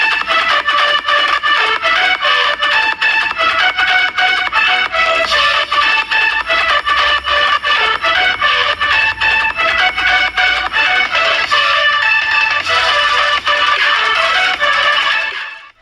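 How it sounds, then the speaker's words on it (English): A bright, melodic ringtone plays loudly and continuously from a Realme 8s 5G phone's small speaker, ending abruptly. "you will easily be able to hear your phone ringing"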